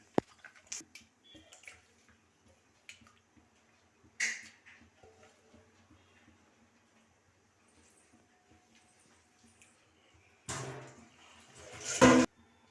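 Water with turmeric simmers in a pot with stingray fish, giving faint scattered bubbling pops and soft splashes, with a louder burst of bubbling near the end and no speech.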